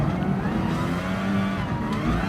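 A Formula car engine in Gran Turismo Sport roars steadily at high revs, loud and close throughout a short pass, with a rising whine and no talk over it.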